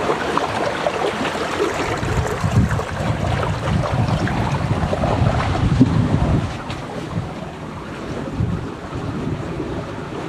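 Sailboat under way in wind, with a steady rush of water and waves along the hull and heavy wind buffeting the microphone, continuous and fairly loud.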